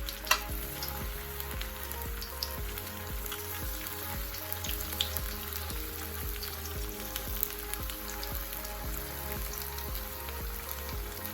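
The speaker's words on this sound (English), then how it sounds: "Time to place them in the oil for the first fry." Green plantains frying in hot oil in a pot, giving an even crackling sizzle that holds steady throughout, with a low rhythmic hum beneath it.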